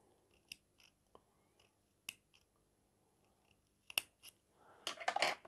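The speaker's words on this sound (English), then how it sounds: "see if I can snip straight across on this one" Sharp scissors snip through an antique Victorian silk covered button, giving several quiet, isolated clicks followed by a louder burst of crisp cutting at the end, close up in a quiet room.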